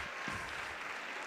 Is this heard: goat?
no